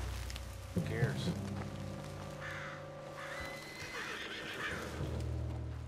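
A horse in Red Dead Redemption 2 whinnies loudly near the start, with hooves clip-clopping and game ambience carrying on underneath, plus scattered voices.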